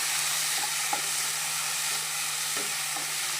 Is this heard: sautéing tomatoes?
yes